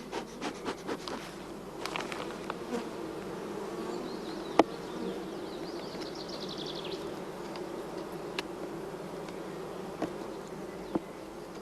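A honey bee colony at a queen-rearing hive, checked for being queen-right, gives off a steady low hum throughout, with a few brief rising buzzes of individual bees passing nearby.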